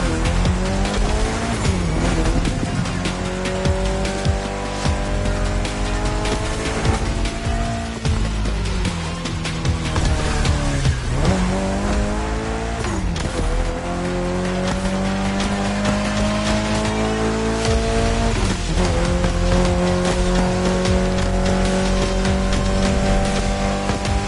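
Race cars in The Crew roar loudly with engines rising and falling through gear changes, while tires squeal and skid through corners in a continuous, close, high-energy mix.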